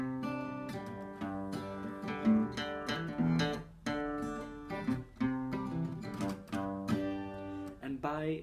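Acoustic guitar picking out a song note by note, a steady run of plucked notes and ringing chords with no talking over it.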